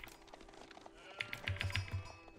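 Sheep bleating in the real-time strategy game Age of Empires 4, a cluster of short, soft, repeated bleats over faint mouse and keyboard clicking and low background game ambience.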